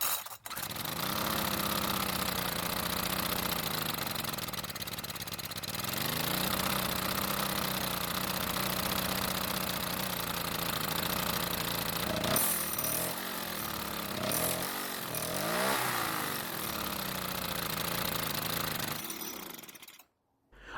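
A small Briggs and Stratton 34cc string trimmer engine runs steadily at a loud, close buzzing idle for about twenty seconds, with brief revving swells near the end before it cuts off.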